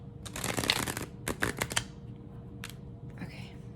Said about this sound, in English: so I can riffle shuffle it